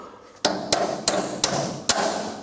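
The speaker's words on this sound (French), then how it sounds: "Un petit coup de marteau." A hammer strikes a swing gate down onto a nylon ring atop its post: five sharp, close metallic knocks, spaced roughly evenly over two seconds, with no talking.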